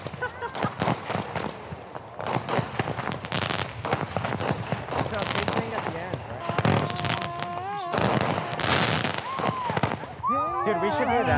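Crazy fireworks and firecrackers going off in a rapid barrage of loud bangs, crackles and whistling rockets, continuous and close, with people shouting and talking throughout.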